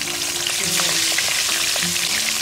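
Halved long sausages fry in the same pan that just cooked chicken for American-style fried rice, giving a steady, close, loud sizzle and crackle with a few stirring scrapes throughout.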